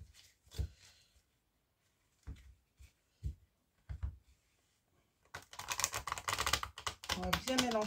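Tarot cards being shuffled by hand: scattered soft taps and riffles early on, then a dense, continuous burst of shuffling close up, with a voice talking in the background.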